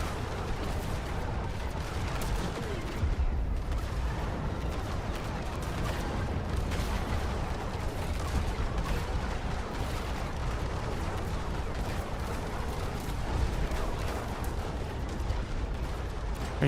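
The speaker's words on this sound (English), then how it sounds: "That artillery." Artillery fire in the real-time strategy game Sanctuary: Shattered Sun, a dense continuous barrage of booms and bursts rumbling without pause, loud and layered throughout.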